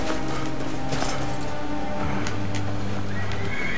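A horse in the video game Skyrim neighs and whinnies loudly amid clip-clopping hooves, with game sounds around it and no talk.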